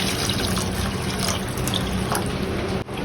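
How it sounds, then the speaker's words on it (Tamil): Water is poured into a pan of tomato masala gravy, giving a steady splashing, rushing flow that runs close and continuous for about three seconds before cutting off abruptly near the end. "கிரேவிக்கு தேவையான தண்ணி ஊற்றிடலாம்."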